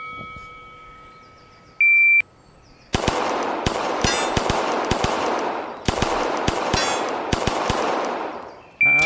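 Rapid pistol shots ring out at a competition stage, with metallic clangs of rounds hitting a steel plate rack target, loud and close, after timer beeps.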